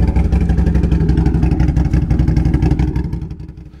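A Can-Am Renegade 1000 ATV fitted with a Get Torqued dual Dominator exhaust revs hard and close, giving a loud, rapid, pulsing engine throb that eases off at the end.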